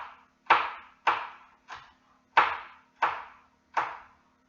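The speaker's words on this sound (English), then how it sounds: "Oh God, I'm really bad at chopping." Knife chopping chilli peppers on a cutting board, six firm evenly spaced thuds, each with a short ringing decay, close and clear with no talk.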